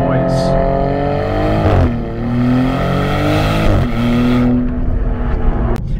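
A 2023 Maserati GranTurismo with all-wheel drive accelerates hard, its engine loud and close. The revs climb steadily, drop twice at gear changes, then rise again in a strong, continuous roar.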